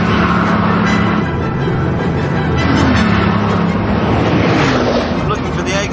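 A car engine holds 5,000 revs in fourth gear during a high-speed run climbing from 200 toward 300 km/h, a steady droning whine that shifts in pitch under heavy wind rush, continuous and close for the full stretch.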